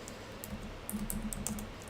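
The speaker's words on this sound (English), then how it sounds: "You guys heard me typing and didn't see any letters" Quiet, close typing on a computer keyboard, a short run of soft irregular key clicks in a low-level room hum.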